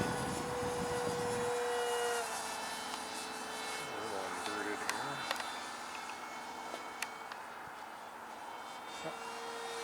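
A radio-controlled Depron F-100 Super Sabre propjet model plane flies past with a steady whining engine tone that shifts pitch as it moves, under wind noise and occasional background voice.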